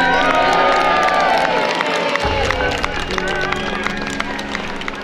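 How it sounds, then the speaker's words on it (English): A crowd cheers and claps at the release of a 340 lb loggerhead sea turtle, a dense, continuous wash of shouting and applause with voices mixed in throughout. "Give Munchkin a cheer"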